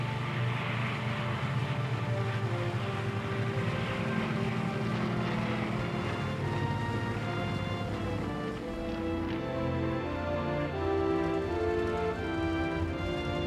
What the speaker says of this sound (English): The overloaded bombers roll down the runway and struggle into the air.